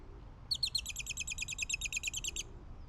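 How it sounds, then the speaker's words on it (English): A bird on a Los Angeles street between Silver Lake and Echo Park gives a rapid, steady run of high chirps for about two seconds. It sounds close and clear over low traffic hum. "What are you saying, bird?"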